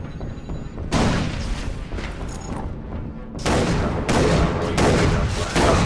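Grenade blast in Far Cry 3 Blood Dragon: loud broadband booms and bursts, one at the start and a stronger cluster after a pause, with heavy rumbling tails and no talk over them.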